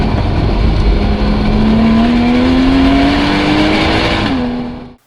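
Porsche engine with the Porsche Sports Exhaust (PSE) valves open, loud and close, droning as revs climb steadily, then dropping back slightly before the sound cuts off abruptly.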